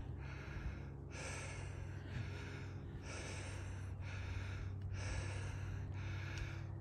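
Heavy, labored breathing of a hiker climbing uphill on the Appalachian Trail, about five loud rhythmic gasping breaths close to the microphone over a low steady background hum.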